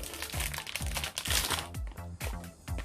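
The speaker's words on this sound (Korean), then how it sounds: "작은 비닐부터 개봉." Thin plastic wrapping being torn open and crinkled by hand, close and fairly quiet, with repeated short crackling bursts.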